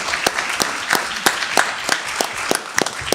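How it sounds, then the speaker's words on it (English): Audience at a school district board meeting applauding two honorees, with scattered individual claps sounding as a sparse, uneven patter rather than a full ovation. "Let's give them a round of applause"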